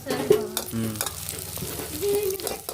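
Chicken pieces frying in masala sizzle quietly in a pan while a spoon scrapes and stirs in short irregular strokes, close and fairly soft.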